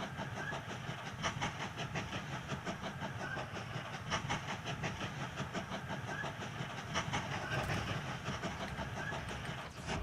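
Sped-up train sounds from the video game Mashinky: a dense, steady rolling rumble with faint rhythmic clatter and hiss running throughout, unbroken by speech.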